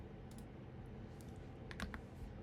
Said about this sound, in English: I am not very good at typing, so bear with me.